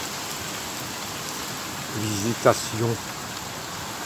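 Rain falls steadily on a roof overhead, a soft, even patter heard from underneath, with a brief stretch of a person speaking near the end.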